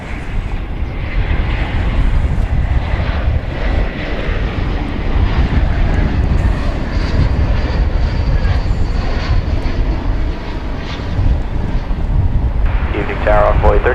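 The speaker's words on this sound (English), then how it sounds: "It's a Airbus A321, but it's coming to us from Las Vegas, hence the flight number." Airbus A321 arriving from Las Vegas and landing at DFW Airport, a loud steady jet engine roar with wind buffeting that holds throughout, with faint talk in the background.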